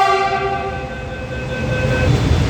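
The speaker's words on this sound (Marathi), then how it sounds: "अशी आहे मेट्रो." A metro train runs steadily with a loud, continuous rumble and sustained tonal whine, heard close from inside or beside the train with no talking.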